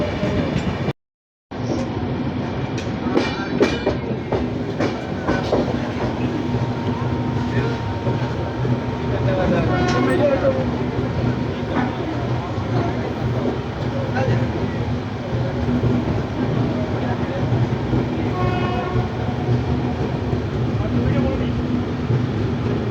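Dhanbad–Howrah Black Diamond Express train running through Bengal hauled by a WAP-9 locomotive, heard from on board: a steady, loud rolling rumble with faint rhythmic wheel clatter, continuous throughout after a brief dropout near the start.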